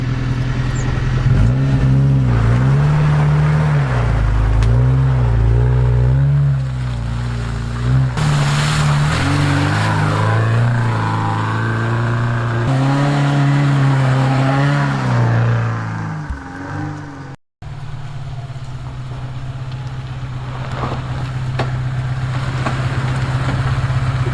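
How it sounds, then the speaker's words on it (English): A truck engine in two-wheel drive revs hard as it charges up a steep, muddy hillside, loud and close with rising and falling pitch, then a brief cut before a steadier lower engine drone continues. "we're going to take a little quick run at it so it doesn't bog down and see how it does with two-wheel drive"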